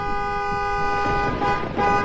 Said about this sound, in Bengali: এটা গাড়ির আওয়াজ ছিল না